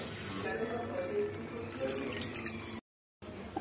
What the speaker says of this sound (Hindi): अब हम इसमें लगभग 2 कप जितना पानी ऐड करेंगे।